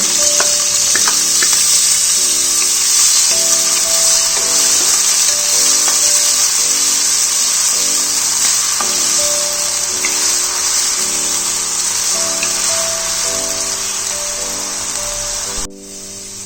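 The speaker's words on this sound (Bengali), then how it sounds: "আমি আগে আলুগুলো এরকম কিউবসে কেটে নিয়েছি, এগুলোকে ভালো করে ফ্রাই করে নেব" Cubed potatoes fry in hot oil for spinach with peas, giving a steady, close sizzle that holds evenly throughout, with faint tonal hum and light scraping clicks beneath.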